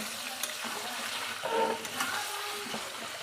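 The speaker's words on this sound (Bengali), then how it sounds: "এবার গ্যাস কমিয়ে আস্তে আস্তে কষাবো।" Curry sautéing slowly in a pan over low heat, a soft continuous sizzle with faint stirring scrapes and a brief clink, quiet and close without talk.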